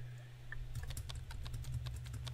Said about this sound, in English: I'm just pressing the D key rapidly, and it's not changing anything